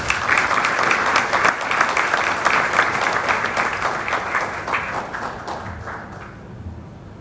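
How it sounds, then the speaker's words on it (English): An audience at an energy and petroleum summit in Nairobi applauds steadily, the clapping holding strong before gradually fading out over the final seconds. "Let's give him a round of applause,"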